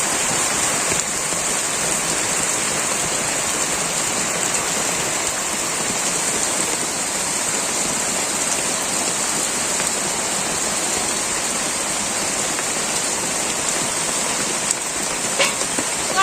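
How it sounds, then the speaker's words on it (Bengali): Steady rain pours down in a continuous, even hiss that stays loud and unbroken throughout. "দূরে নামছে বৃষ্টি"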